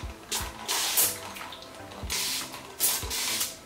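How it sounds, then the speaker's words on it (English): Water spritzed from a spray bottle onto type 4 hair during detangling, three short hissing bursts spaced about a second apart, close and fairly quiet. "Maybe spray a little bit more water real quick."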